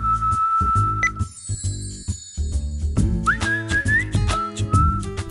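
Melodic whistling in a Hindi accounting and GST software advertisement, a sustained tune rising and falling over upbeat music with light chime accents throughout.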